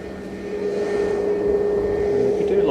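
An Etihad airliner passes at Manchester Airport with a steady, growing engine drone that carries a sustained tonal hum. It gets louder over a few seconds as the plane comes nearer.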